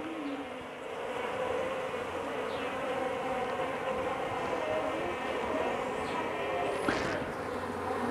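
Bees swarm and buzz around an opened wooden beehive box with stacked supers, a steady close drone with faint scattered insect whines over it.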